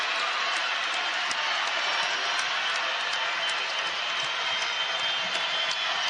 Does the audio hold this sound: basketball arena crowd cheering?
yes